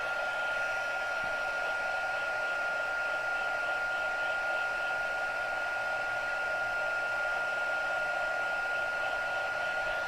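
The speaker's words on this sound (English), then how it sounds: "that heat tool was still pretty warm" A heat tool blows hot air across paper for card making, a constant close whirring hiss with a steady high whine, unbroken and even for the full length.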